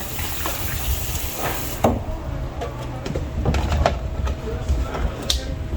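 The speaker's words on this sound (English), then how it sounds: "Right, so just pulling this up with water." Water runs into a pot being filled at a kitchen sink while cooking, a steady rushing splash with scattered clinks and knocks of the pot, fairly close and loud.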